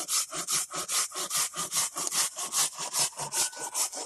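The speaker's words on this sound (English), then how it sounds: "I'm going to trim the tip here" A hand saw cuts through the tip of a wooden spoon blank in steady, rhythmic back-and-forth strokes, about four per second, loud and close with no talking.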